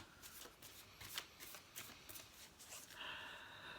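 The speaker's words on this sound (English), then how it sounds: "So I'm going to pull one more card." Oracle cards from a Mystical Shaman Oracle deck are shuffled by hand in quick, crisp riffling bursts, ending with a card drawn from the deck; close and quiet, with no talking.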